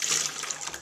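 Water squeezed from the bulb of a Miracle-Gro AeroGarden Bounty indoor lettuce garden, with a steady, close, moderately loud hiss of flowing and splashing liquid lasting under a second and no talk.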